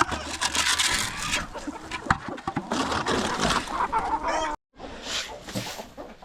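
Asil chickens cluck and rustle in a dense, busy flock while being fed wheat in a farmyard during a bitterly cold winter. The sound is loud and close, with a brief silent break near the end before the clucking resumes.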